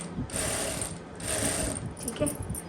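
A sewing machine stitching lace onto the hem of a kameez, giving close mechanical whirring and clicking in short bursts with brief pauses between runs.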